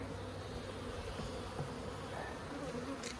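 Honey bees buzzing steadily during a hive inspection at a bee yard, a low continuous drone from many bees close by with faint background noise and no talking.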